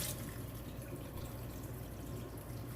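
Water runs from a tap as hands are rinsed, a quiet, steady trickle and splash with no talk.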